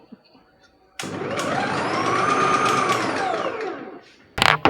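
A Vidiem Tusker food processor dicing beetroot and carrot through a 10 mm dicing disc: the motor starts abruptly after a quiet second, whirs loudly and steadily for about three seconds, cuts off, then a short clatter follows.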